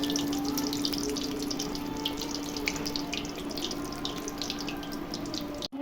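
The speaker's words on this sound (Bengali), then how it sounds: "বন্ধুরা, বেগুনিটা ভেজে নিচ্ছি" Beguni, battered eggplant slices, fry in hot oil and puff up, giving a steady bubbling hiss scattered with small crackles that runs throughout at moderate volume with no talking.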